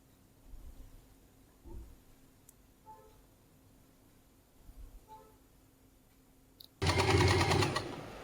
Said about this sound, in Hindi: ये इस तरह से सिलाई लग जाएगी हमारी